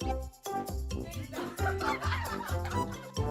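Cartoon chickens in a crowing contest let out a busy run of clucks and squawks, stacked and overlapping against a bouncy musical backing, loud and close, with no talking over them.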